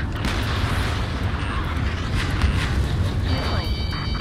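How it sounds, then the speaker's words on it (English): Dense, rumbling gunfire and booming blasts in the video game Ace Combat 7, with jets roaring through city streets, fill the scene continuously, a steady roar underneath and no clear pauses. "gunfire and the roar of jets echoing through the streets"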